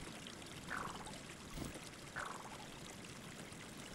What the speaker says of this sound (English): it continues to flow freely throughout the year in a few ravines